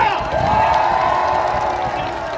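A crowd at an outdoor election campaign rally claps and cheers loudly at close range, a dense continuous wash of applause and shouts with a tonal squeal riding over it.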